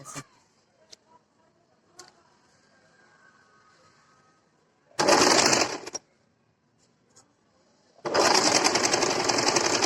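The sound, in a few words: sewing machine stitching kurti sleeve seam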